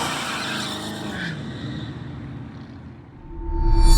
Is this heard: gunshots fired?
no